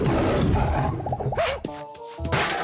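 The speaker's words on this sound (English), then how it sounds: "Roar!" Talking Hank, a cartoon monkey, lets out a playful growling roar with wavering, sliding tones, followed by a brief pause and a short final rumble.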